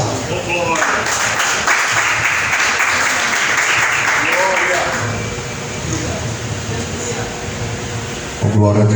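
A church congregation applauding in a dense, sustained wash of clapping, with voices and tonal sounds underneath, tapering toward the end before a louder burst.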